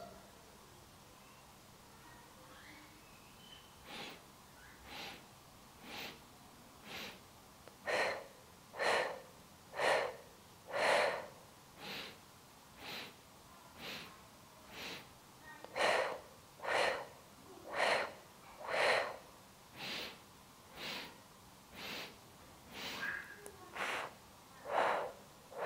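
Guided breathing practice made of short, sharp sniffing inhales in repeated bursts, about one per second. The breaths come close and clear against a quiet background and grow louder in some cycles.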